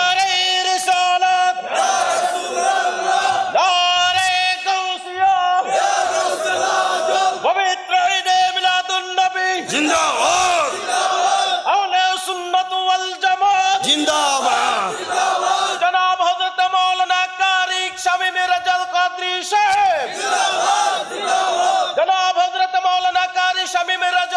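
A crowd at a Bangla waz gathering shouts takbir in call-and-response with a preacher over a microphone, repeated loud chanted waves with reverberant bursts of massed voices.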